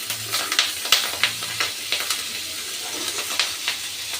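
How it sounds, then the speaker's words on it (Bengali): Bitter gourd fried with fish roe, green chillies and chopped onion sizzles in hot oil, a steady soft crackle broken by repeated sharp scraping clicks of stirring in the pan. "এইভাবে আমি উচ্ছে ভাজাটাকে করে নেব।"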